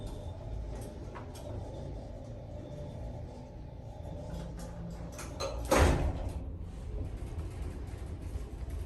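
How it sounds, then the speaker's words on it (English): Steady low mechanical rumble of a Westinghouse hydraulic elevator in Galveston, Texas, with a sudden loud thud of its door moving and slamming shut partway through, then the hum continues. "that door's loud."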